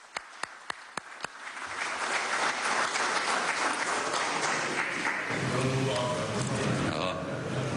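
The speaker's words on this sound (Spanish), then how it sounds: "Lo recibimos con aplausos." At a signing ceremony for agreements on the La Guaira port, a few sharp early claps build into steady, full audience applause, with a low hum entering near the end.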